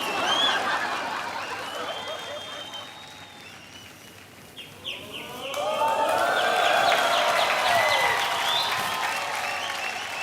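Audience applause rises and falls on a TV comedy stage, steady clapping with whoops and cheers swelling in the second half, fairly loud throughout.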